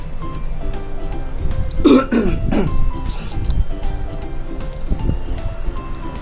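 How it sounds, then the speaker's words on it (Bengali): A person with a cold coughs and clears their throat in a quick burst near the start, close and fairly loud over a quiet indoor background. "ঠান্ডা তাই কাশি"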